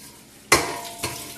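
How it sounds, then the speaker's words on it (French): Cabbage stirred in a cooking pot with no water added, giving two sharp scraping clinks of utensil against metal half a second apart, close and fairly loud. "On va touiller ensemble."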